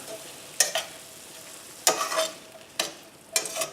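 A spoon stirs a pan of turnips dressed with maple syrup and a little vinegar, four separate scraping, sizzling strokes spaced apart over a faint hiss, close and clear.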